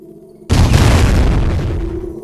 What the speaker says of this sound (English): I call it the guided leg cannon.